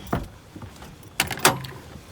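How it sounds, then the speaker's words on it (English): Car doors on a C10 pickup lock with a few short mechanical clunks and clicks, one faint early click followed by two sharper thuds close together near the end. "Lock the doors."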